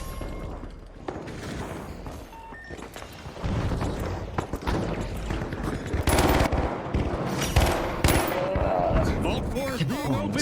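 Rapid video game gunfire rattles in bursts of shots and booms, loud and busy, with a voice talking over parts of it.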